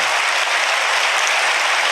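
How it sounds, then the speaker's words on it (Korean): Church congregation applauding during a Sunday service baptism and membership ceremony, a steady wash of clapping throughout, moderately loud and even. "여러분 박수로 한번 축하해 주십시오."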